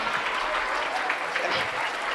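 An audience claps in a steady, dense wash of applause at an Indonesian religious sermon, filling the whole moment at even volume.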